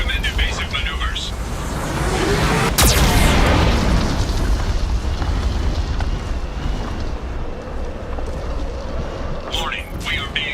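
Geth cannon fire in Mass Effect 2 lands as a heavy, roaring explosion that swells into a long rumbling blast, with a sharp crack near the start, loud and dense, with a faint synthetic warning voice at the end.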